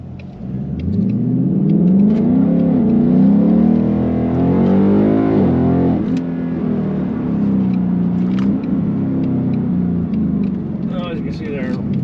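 A Ford Mustang GT with a 10-speed automatic in sport drive mode pulls hard, its V8 engine note climbing in pitch, dropping at a gear change midway, then climbing again, loud and close from inside the car.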